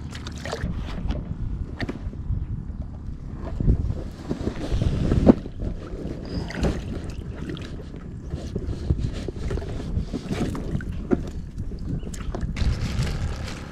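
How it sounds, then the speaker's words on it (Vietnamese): Wind gusts steadily past the microphone on an open lake beside a small fishing boat, a continuous rough rumble with brief stronger bursts and faint water sounds, no voices. "Gió quá"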